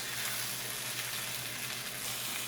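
Veal chops sear in a hot pan with a soft, steady sizzle that stays even and fairly quiet throughout, no voices over it.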